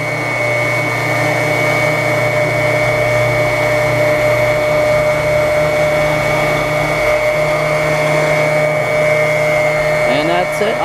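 An oil transfer pump draws oil from a 55 gallon tank through a garden hose quick connect, giving a loud, steady motor whine that drones unbroken throughout, with a few faint clicks near the end.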